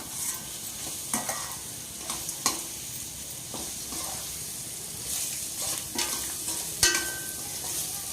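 Carrot fries with turmeric in oil, a steady near sizzle with irregular spoon scrapes and knocks against the pan every second or so, louder knocks near the end, and no speech.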